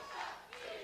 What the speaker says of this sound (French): La foule scande le nom de Bishop.